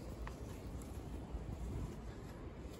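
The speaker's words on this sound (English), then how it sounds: "It might be too windy out here." Wind blowing outside a holiday caravan at a seaside holiday park: a faint, steady rush of gusty air buffeting the microphone, with no other sounds.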